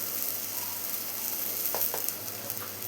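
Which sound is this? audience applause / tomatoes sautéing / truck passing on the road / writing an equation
tomatoes sautéing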